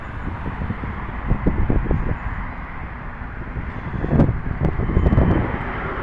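An airplane takes off at Harry Reid International Airport in Las Vegas. A distant jet roar swells toward the end, mixed with gusts of wind across the microphone.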